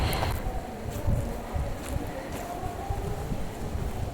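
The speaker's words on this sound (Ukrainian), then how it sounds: "Зранку все одно вітряно на Харківщині." Morning wind on a horse and poultry farm in the Kharkiv region, buffeting the microphone as a steady low rumble with occasional stronger gusts.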